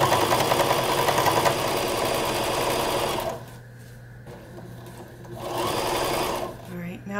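A sewing machine stitches felt fabric for Christmas stockings, a loud, fast, steady mechanical whir up close. It stops midway, leaving a quieter hum, then briefly runs again.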